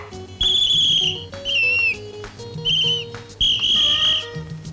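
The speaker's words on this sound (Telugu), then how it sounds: "అందరూ ఈల వేస్తే నువ్వు ఈల మింగావా?" Several shrill whistle blasts in bursts, with pauses between them, over a low steady hum of background music, in a Telugu comedy film scene.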